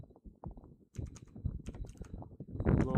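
Keys clatter on a computer keyboard while a search is typed into a web browser, an irregular run of close, crisp clicks that speeds up and grows louder toward the end.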